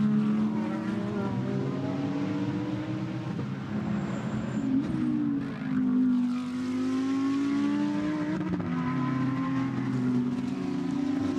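GT race cars, including a green and black Lamborghini and a Honda, racing at Barcelona, with a steady engine drone and shifting pitch throughout, heard from a distance.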